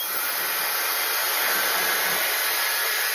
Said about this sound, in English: here's that blow dryer, and we're gonna put the concentrator on here